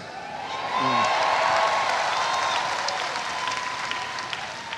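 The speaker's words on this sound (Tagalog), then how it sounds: "Mas malakas din ang palakpak" Steady applause from a large church congregation at an anniversary service fills the whole stretch, dense and sustained, with faint voices mixed underneath.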